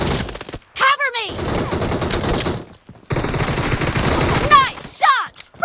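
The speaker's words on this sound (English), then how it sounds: "Nice shot! Reloading! Enemy down!" Rapid bursts of loud gunfire in a first-person shooter game, pistol shots among them, rattling in two long volleys separated by short pauses, with whooshing effects and a voice speaking in between.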